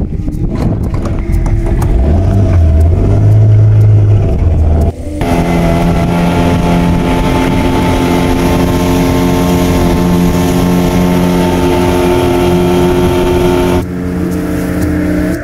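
A 15-horsepower outboard boat engine runs loud and close on a trip back to shore from a sea cucumber farm, a steady droning hum with a brief change in pitch early on.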